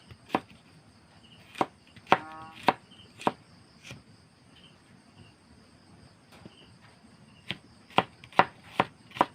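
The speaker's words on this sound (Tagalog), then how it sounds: "Gaya na agad natin ng sibuyas" Onions chopped on a board with a knife, sharp single thuds spaced irregularly and then in a quicker run, with a chirping insect and a steady high background drone outdoors.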